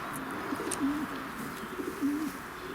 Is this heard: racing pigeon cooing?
yes